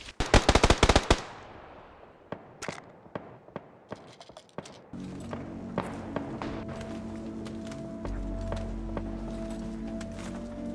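Sniper rifle gunfire in the PUBG battle royale video game, a rapid burst of sharp shots at the start, then scattered single cracks and footsteps, followed by a steady engine-like drone.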